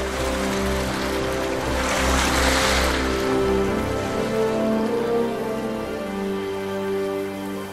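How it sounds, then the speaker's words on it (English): Drifting ice on a Siberian river in spring, a steady dense crackling and hissing wash with low tonal hums, continuous and fairly loud, with no voices. "the strange sound of drifting river ice signals the start of"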